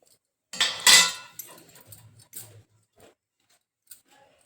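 A spoon mixing rice flour and oil for murukku dough in a bowl, a few sharp close scrapes and clinks at first, then softer intermittent stirring with quiet pauses.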